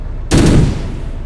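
A weapon in the tank game Arms Trade Tank Tycoon, glitched from a turret into a machine gun, lets off one loud, sustained burst of gunfire lasting about a third of a second before a fading tail.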